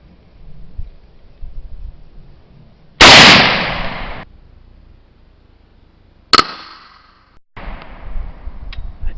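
Rifle shot from a Norinco SKS in 7.62x39 fired at a car alternator: a sharp, loud crack with a ringing decay around the three-second mark, then a second sharp impact or shot further on, each followed by a brief tail.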